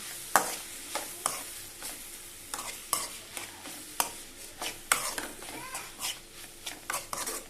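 An ivy gourd, tomato and carrot curry is stirred in a pan with a spoon, making repeated rhythmic scrapes and clinks over a low sizzle, close and fairly quiet, with no voices.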